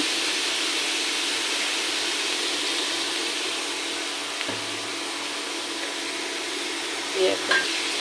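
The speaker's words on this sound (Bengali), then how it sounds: "লবণটা দিয়ে আমি এটাকে এখন ভেজে নেবো" Chopped carrots with salt fry in a pan with a steady, even sizzle throughout, with a few small clinks near the end.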